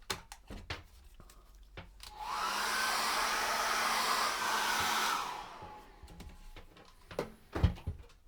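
A hair dryer runs on acrylic paint for about three seconds, a steady loud whoosh with a firm start and a clean cutoff, framed by light knocks and handling sounds from a tabletop painting setup.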